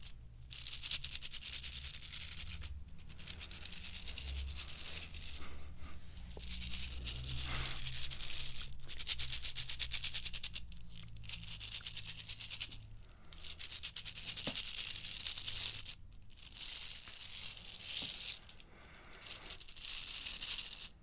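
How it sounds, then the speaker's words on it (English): Rhythmic bursts of bright metallic rattling scrape from a cabasa in repeated strokes, separated by short pauses, close and fairly quiet. "this object here is a musical instrument called a cabasa."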